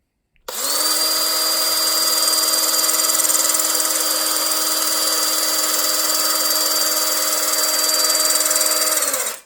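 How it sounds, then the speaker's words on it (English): An electric drill whines at a constant high pitch for about nine seconds while twisting spinning-top string, loud and close, starting and stopping abruptly. "That was about 10 seconds with my drill. I'm going to do another 10."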